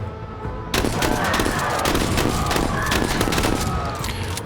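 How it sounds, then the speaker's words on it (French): Loud video game gunfire erupts after a short lull, a dense barrage of overlapping shotgun blasts and impacts that keeps up steadily for several seconds. "le fusil à pompe fonctionne extrêmement bien contre eux"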